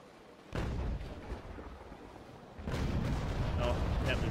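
Naval gunfire in a video game battle: two heavy booming salvos, one near the half-second mark and a longer rumbling burst later, loud and rolling over a low background.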